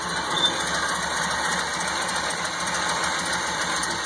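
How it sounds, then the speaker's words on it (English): The engine of a 1929 Ford Model A Tudor sedan idles with a steady, even running sound, moderately loud and continuous, with no talking. "Give you a shot of the engine here."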